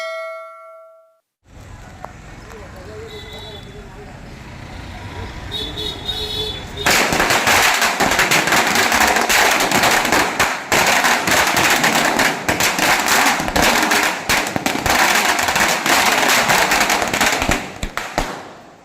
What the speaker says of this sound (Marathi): फटाके वाजवून जल्लोष साजरा केलाय